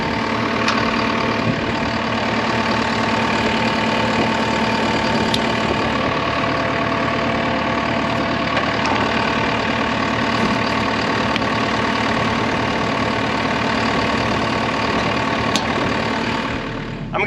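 A ride-on mower engine fitted with high-flow blades idles steadily at a constant loud level, with a continuous mechanical rumble and no speech.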